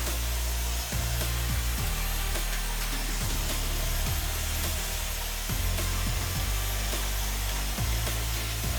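A hair dryer blows continuously up close as short-cut hair is dried after a salon haircut, a loud steady whooshing roar with slight changes in pitch as it moves, no talking.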